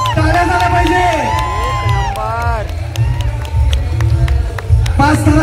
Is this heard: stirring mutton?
no